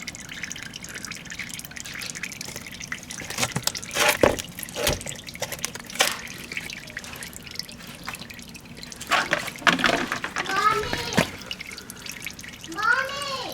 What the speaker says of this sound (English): We're going to let that drip for another minute or two.